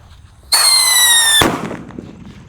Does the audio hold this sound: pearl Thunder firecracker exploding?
yes